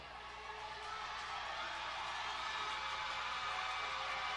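Basketball arena crowd at a Howard Bison versus Bethune-Cookman Wildcats college game, cheering and whooping in a continuous, dense roar that swells slightly and holds steady and loud.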